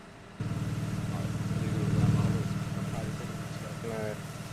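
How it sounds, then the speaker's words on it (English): Heavy garbage trucks idle close by, a loud steady low engine drone running throughout, with voices talking over it. "I can't hear everybody over the trucks."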